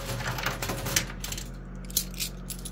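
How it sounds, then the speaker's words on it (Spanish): Coins clatter down inside a coin pusher cascade arcade machine, a steady stream of small metallic clinks and drops with a couple of sharper hits, heard close with no talking. "Mientras las monedas caigan bien"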